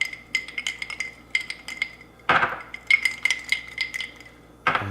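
Ice cubes clink and rattle against glass as a Baileys pumpkin spice old fashioned is gently swirled, a quick series of bright, close taps with a few sharper knocks.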